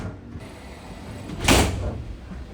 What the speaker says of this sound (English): They also have revolving folding slam doors, which are a bit of a throwback